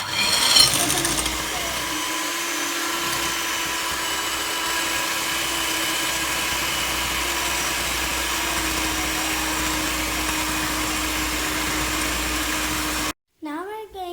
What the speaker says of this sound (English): Okay, so let's mix it again with the beater.